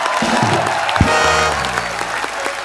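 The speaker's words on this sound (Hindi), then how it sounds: "जोरदार तालियां हो जाएं" An audience breaks into loud, sustained applause, with a low musical tone sounding underneath.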